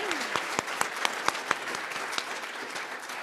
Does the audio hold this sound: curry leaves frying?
no